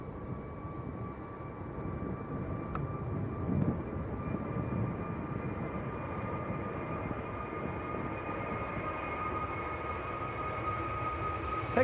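A Pegasus Airbus A321neo airliner departs Manchester Airport, giving a steady, distant broadband engine roar with a faint high whine that holds evenly throughout, with no voices.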